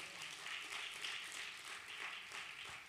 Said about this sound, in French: Est-ce qu'on peut leur donner une bonne main d'applaudissement?